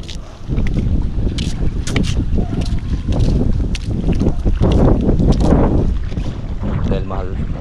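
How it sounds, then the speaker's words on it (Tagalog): Strong sea wind buffets the microphone in constant roaring gusts, with a fishing boat's rumble and splashing water underneath and a voice faintly mixed in. "Konti-unti naman lakas yung hangin."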